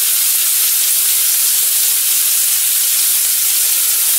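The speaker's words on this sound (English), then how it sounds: "Y'all hear that pan working, that sizzle?" Loud, constant bright hiss of meatballs sizzling in a frying pan, close up and unbroken, with no talking.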